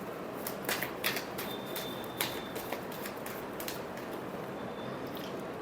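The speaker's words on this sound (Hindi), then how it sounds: "Last shuffle." Tarot cards being shuffled by hand, a series of soft, quick riffling flicks and taps coming in irregular bursts, fairly quiet and close, with no talking.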